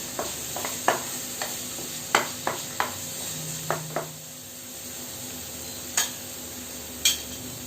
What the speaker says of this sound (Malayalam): ഇഞ്ചിയും വെളുത്തുള്ളിയും ഒന്ന് സോട്ടാവുന്നത് വരെ ഒന്ന് വഴറ്റി കൊടുക്കുക